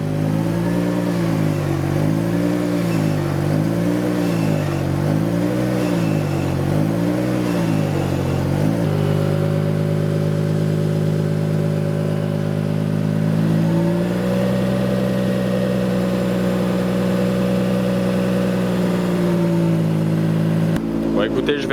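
A Nissan S14's engine hums close up while driving, a steady droning note that wavers rhythmically at first, then settles and shifts pitch, with a voice heard over it.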